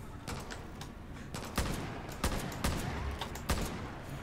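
Gunfire in the video game Far Cry New Dawn: a volley of shots from several directions, with scattered cracks and a few louder reports standing out against a steady rumbling battle background.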